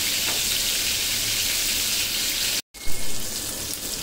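Shell-on prawns fry in hot oil with a loud, steady, close sizzle, which cuts out for a moment and then returns with a brief bump as they are turned over.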